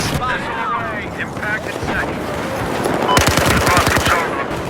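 Rapid automatic bursts from a PP-2000 submachine gun in Battlefield 4, a loud close rattle of quick shots that rises into a dense volley near the end, over game ambience and whooshing effects.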